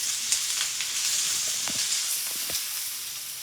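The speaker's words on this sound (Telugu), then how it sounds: "ఎక్కువ వేగాల్సిన పని లేదండి, కొంచెం మెత్తబడితే చాలు ఆనియన్స్." Onions softening in hot oil in a pan, giving a steady soft sizzle with small pops and crackles scattered throughout, close and fairly quiet, with no talk.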